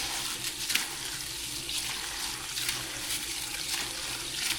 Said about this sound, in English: I wash the rice.